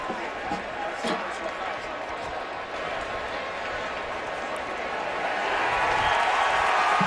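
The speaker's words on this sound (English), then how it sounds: "You hear the cheer as they show the replay on the big board here." Stadium crowd at a Louisville vs Florida State college football game roars and cheers as a replay shows on the big screen, a broad wash of noise swelling louder toward the end, with a commentator talking over it.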